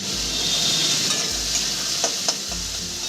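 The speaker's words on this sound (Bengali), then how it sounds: "পটলটা আমি সুন্দর করে ভেজে নেবো" Pointed gourd (potol) fries in oil with a steady, dense sizzle that runs continuously, joined by a few faint pops and crackles and a low background hum.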